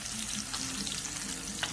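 Swordfish steaks fry on a Blackstone griddle with melted butter on top, a dense, continuous close sizzle with small crackles throughout.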